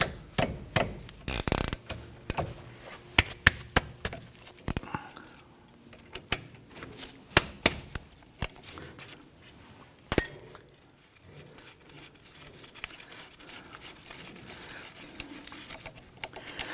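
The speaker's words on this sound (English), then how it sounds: "You use a 14mm, and I'm going to use a gear wrench." A gear wrench works 14mm brake caliper bolts on a 2011-2015 Kia Sorento, sounding as close, irregular ratcheting clicks and sharp metallic knocks, with a louder clank partway through, then quieter rattling.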